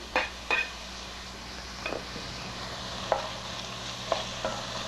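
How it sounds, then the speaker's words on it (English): Hot pepper, garlic and ginger frying in a pan for chickpea curry make a low, even sizzle, with a few sharp clinks of a utensil against the pan scattered across the clip. "I'm going to add the hot pepper, the garlic and the ginger into the pan"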